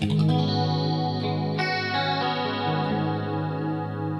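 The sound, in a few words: electric guitar through chorus pedal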